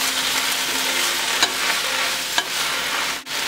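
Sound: sauteing kale and butternut squash in a pan

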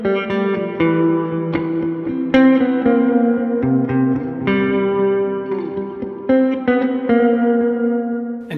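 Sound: guitar with delay, flanger and phaser effects

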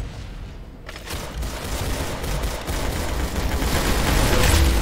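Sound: gunshots in video game Roblox Arsenal

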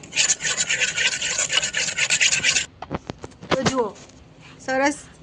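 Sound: mixing gram flour with buttermilk

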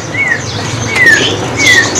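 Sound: samyong bird calling

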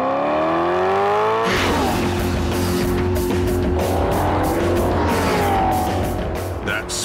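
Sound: Maserati V8 sports car engine revving and accelerating

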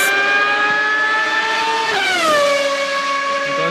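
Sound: Formula 1 race car engine, Sauber

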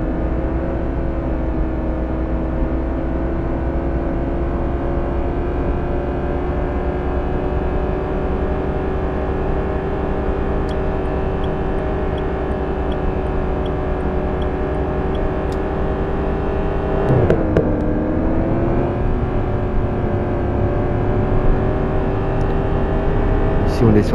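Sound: car engine accelerating in City Driver video game

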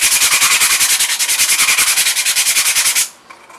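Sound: sanding the side with sandpaper

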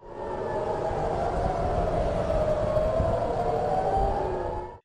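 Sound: air raid sirens in Tel Aviv during Iranian attack

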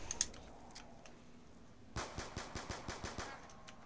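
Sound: gunfire from guns in a video game

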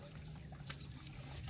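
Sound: water flowing into RV gray tank during flush

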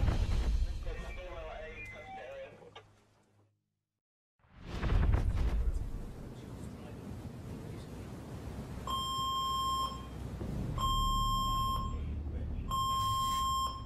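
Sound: fire alarm beeping aboard the Queen Mary 2 cruise ship

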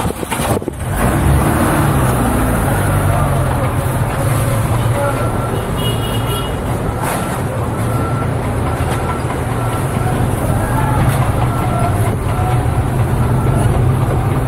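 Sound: car driving through garbage city

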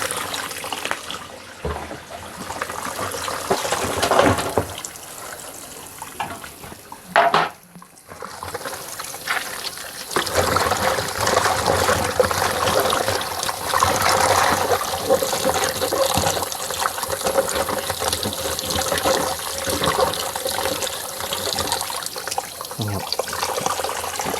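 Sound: washing vegetables in running water for pickling

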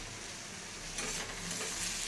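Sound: vegetables being fried in a pan

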